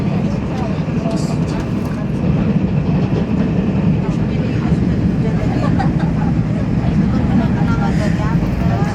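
A passenger train runs on rails while travelling around Taiwan, with a continuous loud rumble and rattle throughout and voices talking over it.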